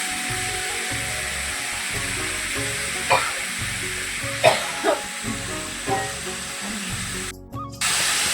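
Steady hissing sizzle of food frying in a pan, with a few sharp spatters and stirring scrapes punctuating the continuous crackle.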